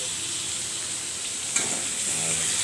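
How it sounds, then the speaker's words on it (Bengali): Potatoes fry in a pan for a soybean and potato curry, a steady, close sizzle running throughout with a brief clatter partway through. "আলুটা ভাজতে বসিয়েছি"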